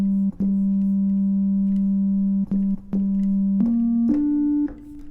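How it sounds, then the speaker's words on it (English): A pure, steady sine wave synth tone holds long notes and steps upward in pitch, with brief glitches between notes, alone and clear. "I'm gonna add like a little sine wave melody"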